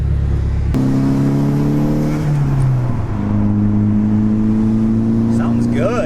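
Nissan Sileighty with an SR engine revs loudly up close with a throaty exhaust, the engine note stepping up and shifting pitch through several sustained revs, with people talking over it.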